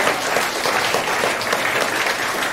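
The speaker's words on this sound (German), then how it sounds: "Dann einen großen Applaus an die Gruppe" An audience at the Jugend hackt Hamburg 2023 final presentations gives a group a dense, steady round of applause that stays loud throughout.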